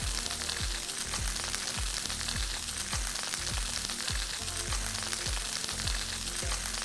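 Branzino fillet frying in a pan with garlic and butter, a continuous bright sizzle with crackling spatters and a recurring low rhythmic thump, close and steady throughout.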